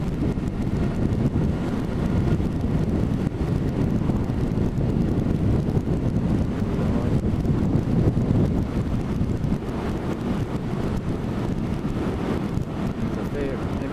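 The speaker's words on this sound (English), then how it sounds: "though it doesn't look like it, there is a fair bit of wind." Wind buffets the microphone during a motorbike ride, a loud, constant low roar and rumble that never lets up across the whole stretch.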